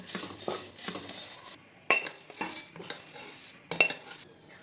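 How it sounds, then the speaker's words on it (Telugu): Puffed rice dry-roasted in a kadai: bursts of rustling, scraping stirs with light metallic clinks against the pan, in uneven strokes separated by short quiet gaps. "ముందుగా మనం బాండీ పెట్టుకొని 2 కప్పులు మరమరాల్ని డ్రై రోస్ట్ చేసుకోవాలి"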